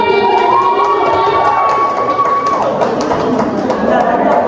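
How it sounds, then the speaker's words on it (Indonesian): Students at a public-speaking micro-teaching session clap and cheer together, a steady, dense crowd noise filling the whole stretch with excited voices and a high whistle-like tone over it. "Kasih tepuk tangan dulu dong"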